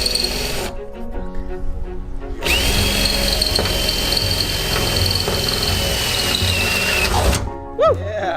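A power drill whines in a long continuous run after a brief earlier burst, loud and close, with a voice speaking briefly near the end, during a roof fan installation on a van.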